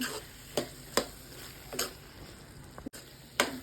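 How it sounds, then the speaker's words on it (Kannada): Aloo matar being stirred and fried in a pan: a few separate scraping stirs over a soft, steady sizzle, close and fairly quiet, with no voices. "ಎಲ್ಲ ನೀಟಾಗಿ ಮಿಕ್ಸ್ ಮಾಡ್ಕೊಳ್ಳಿ."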